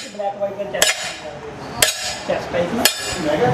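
A nail scratched and struck against a hard, scratch-resistant tile, giving three sharp metallic taps about a second apart with faint scraping between, close and fairly loud.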